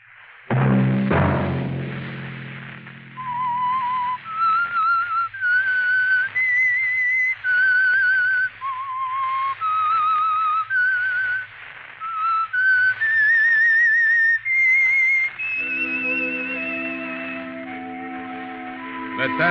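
A clear melodic whistled tune, rising and falling in short held notes, over a low steady musical accompaniment, with a chord swell at the end; the theme of the 1951 radio drama The Whistler.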